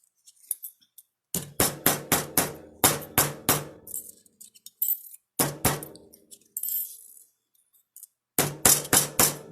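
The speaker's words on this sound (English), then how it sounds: "rawhide mallet." A rawhide mallet hammers copper pendants flat, giving runs of sharp, loud, evenly spaced blows in bursts of four to six, with short pauses between groups and a little scraping of metal pieces in the gaps.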